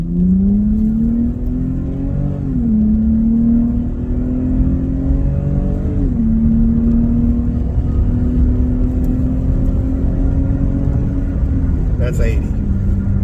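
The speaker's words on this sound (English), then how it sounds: "So I mean, it's pretty loud if you're getting on the gas." A 2024 Nissan Frontier with a custom equal length exhaust accelerates from inside the cab, a loud steady drone rising in pitch through several gear shifts.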